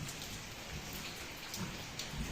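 Steady rain pours down in a continuous hiss with scattered drops pattering nearby, no voices, just the even wash of rainfall.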